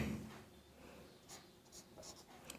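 Quiet strokes of writing on a classroom board during a maths lesson, a few short scratchy marks spaced through a faint, low-level room background with no talking.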